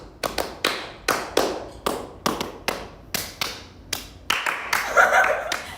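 A group of girls claps out a rhythmic intro during a live stream, a dozen or so sharp hand claps in a steady beat followed by a quicker flurry, close and clear with no talk over it.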